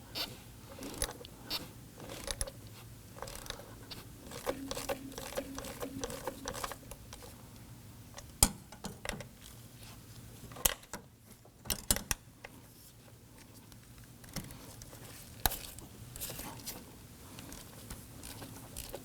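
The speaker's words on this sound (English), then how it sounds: "We're going to use our 8mm socket and 1/4" ratchet to loosen and remove these bolts." An 8mm socket on a 1/4 inch ratchet loosening and removing bolts on the VVT adjuster magnet of a 2018-2024 Toyota Camry 2.5L four-cylinder. Irregular bursts of close ratchet clicks and metallic taps, some sharp, with quieter pauses between them.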